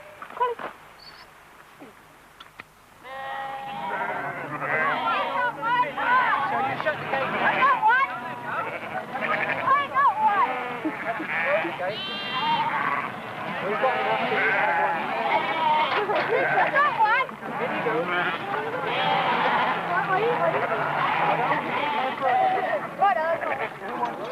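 A crowd of sheep bleating continuously in a pen of wooden hurdles at a castle living-history display, many overlapping close calls of varied pitch after a brief quieter start.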